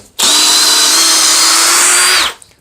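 Parkside PPBSA 20 Li A1 cordless drill driver unscrewing a screw, a single loud, close, steady high motor whine lasting about two seconds that starts abruptly and winds down quickly.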